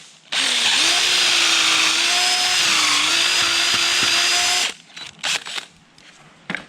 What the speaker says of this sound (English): now we have our pocket holes drilled into the board